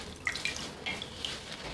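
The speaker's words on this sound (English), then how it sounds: "squeeze out a good amount of the water so you don't end up with a big puddle on your work surface" Water drips from squeezed wet wool roving during home dyeing, a few small, light drips spaced irregularly and heard up close with no talking.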